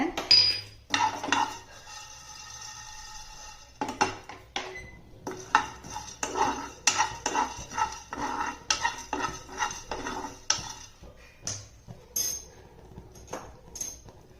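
A spoon tips coriander seeds into a cooking pot with a run of metallic clinks, taps and scraping knocks, irregular and close, with no talk.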